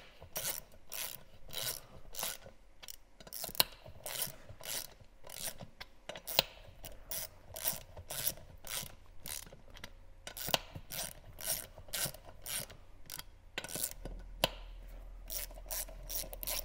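A ratchet wrench snugs down bolts on a Tusk beadlock rim on a 2023 Polaris Ranger 1000XP wheel, giving a long run of quick, evenly spaced clicks with brief pauses and no talking.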